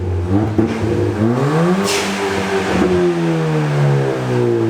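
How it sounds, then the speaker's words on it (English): A 2011 Subaru STI engine with an aftermarket Invidia exhaust idles, then revs up and settles in two rising-and-falling sweeps, loud and close, with no talking over it. "can you shut your slow car down?"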